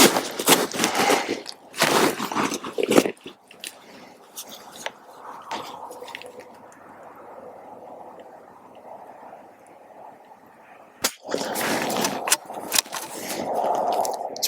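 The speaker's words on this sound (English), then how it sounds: "So let's give it 5 shots." Rifle shots fired from a seated shooting position at a training range, several sharp loud cracks in a quick group near the start, then a quiet stretch and more bangs toward the end.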